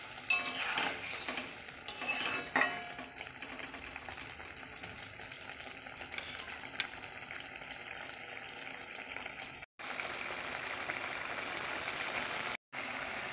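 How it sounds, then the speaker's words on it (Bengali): Okra fries in oil in a pan, giving a steady close sizzle throughout with occasional scraping stirs near the start and two brief breaks in the sound. "ঢেঁড়সটাকে ভালো করে ভেজে"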